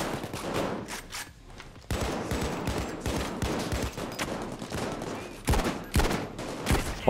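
Heavy shootout in PAYDAY 2 during a jewellery store heist, with dense overlapping gunshots and rapid bursts from several weapons, loud and near, and a few sharper, stronger shots standing out toward the end.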